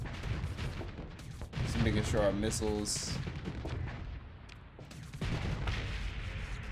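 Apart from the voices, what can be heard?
antimatter blaster rounds firing in a space strategy video game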